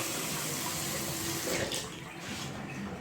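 Water gushes hard from a Glacier Bay bathtub faucet spout, a steady close-up rushing hiss that holds constant and dips only slightly near the end.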